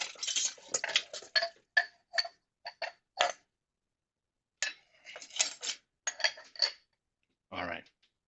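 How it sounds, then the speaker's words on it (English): Dishes being pre-washed at a sink, with irregular clinks and clatters of plates and cutlery in short bursts, a pause, then more clattering and a brief run of water near the end. "So I've got all kinds of dishes here waiting for me. So I'm doing a little pre-washing."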